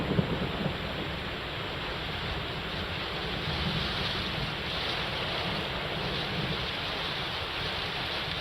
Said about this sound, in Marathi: पानशेत भागामध्ये मुसळधार पाऊस कोसळतोय